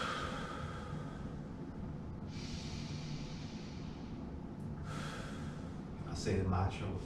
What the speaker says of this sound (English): let me take the 3 deep breaths in through the nose,